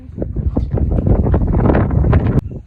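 Strong wind buffets the microphone while a boat is rowed against the current, loud gusty rumbling with irregular knocks, ending in a sharp click.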